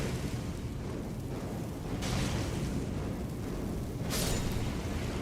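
A fire spell is cast in the video game Elden Ring, a loud roaring whoosh of flame that surges at least twice over a continuous crackling blaze.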